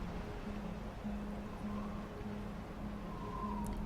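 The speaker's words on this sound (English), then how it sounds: "Then they heard a truck moving." A truck rumbles along in a steady low drone in the 84 Lumber Super Bowl commercial, with faint soft tones drifting over the engine noise.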